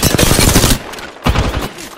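Rapid automatic gunfire from enemies in Apex Legends, a dense loud burst followed by a brief pause and a second shorter volley, close and harsh, with no talk over it.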